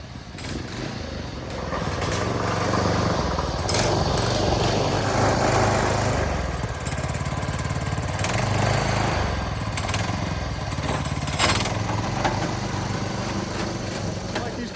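DR Power Wagon small engine running steadily and smoothly, a continuous rough mid-level drone close by with slight surges, no speech over it.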